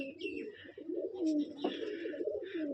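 Rajshahi Giribaz flying pigeons coo in a low, throaty run of repeated calls, close and fairly steady, with brief higher chirps mixed in over a soft background.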